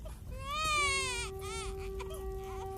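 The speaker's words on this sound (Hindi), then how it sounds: "अरे, बच्चे की रोने की आवाज तो मेरे आंगन से ही आ रही है।" An infant cries in a drawn-out wail that rises and wavers, followed by shorter whimpering cries, fairly close and loud over a low background hum.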